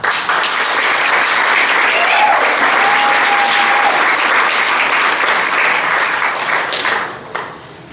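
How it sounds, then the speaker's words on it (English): A church congregation bursts into loud, sustained applause during a Sunday youth service, a dense wash of clapping that holds steady for several seconds before tapering off near the end. "So as Chris comes, would you erupt in applause for Christopher Quiros as he comes and bring"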